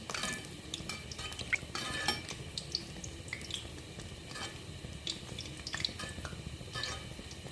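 Potol posto being stirred and fried in a pan, with a spatula scraping and clinking against the metal in steady, repeated strokes over a soft background sizzle, close and fairly quiet.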